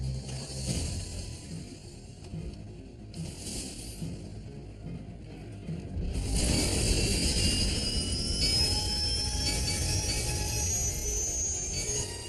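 A military drone launches and flies off with a continuous engine drone that grows louder and brighter partway through as it climbs away, sustained and fairly near, with no talk.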